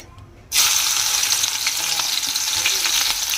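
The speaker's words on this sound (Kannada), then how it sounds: "ಫ್ರೈ ಮಾಡ್ಕೊಳ್ಳೋಣ ಇವಾಗಿಲ್ಲ ಕ್ಯಾಬೇಜ್ ಮತ್ತು ಕ್ಯಾರೆಟ್" Chopped cabbage and carrot with green chillies dropped into hot oil, a sudden loud sizzle that holds steady with stirring crackles.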